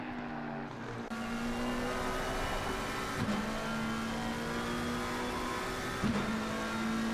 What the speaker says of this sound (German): Oh, jetzt fährt der Nissan rein, nehme ich an.